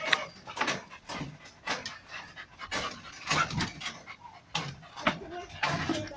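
Xuxa, a female dog on a country property, pants rapidly and close by in quick breathy bursts, with a voice speaking briefly in the background.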